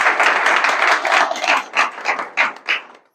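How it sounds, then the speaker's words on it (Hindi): Loud audience applause from a live crowd at a motivational talk, dense sustained clapping that then breaks into several rising and falling bursts before stopping. "एक बार जोरदार तालियां होनी चाहिए।"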